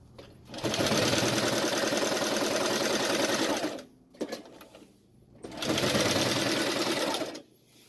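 A sewing machine stitches a guitar strap in two long, steady runs of rapid, even needle clatter, separated by a brief pause with small handling clicks. It is close and moderately loud, with no talk.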